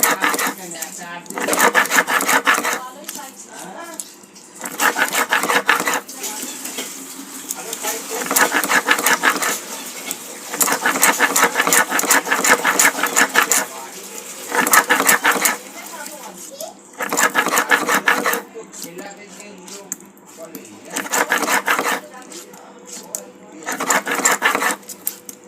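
Cumin and ginger ground on a stone grinding slab (shil-bata), repeated bursts of gritty rubbing and scraping strokes separated by short pauses, close and clear, with children's voices and talk in the background.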